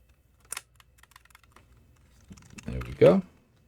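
A plastic tab on a PS5 controller paddle mod clicks into place, giving a few faint light ticks followed by a firmer pressed click and a rustle of handling, close up.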